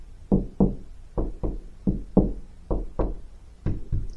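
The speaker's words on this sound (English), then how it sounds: "I'm going to find the stud, not with a stud finder, but in the old-fashioned way by knocking on the wall." Knuckles rap on a wall to locate a stud in a series of about a dozen hollow knocks, spaced irregularly, close and fairly loud.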